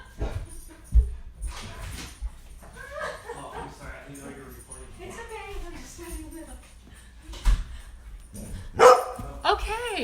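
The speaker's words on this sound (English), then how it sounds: "my wonderful husband just got home and Mo barks at my husband" A pet dog barks in a home as a man arrives, a few sharp barks near the start and again toward the end, with someone talking over much of the clip.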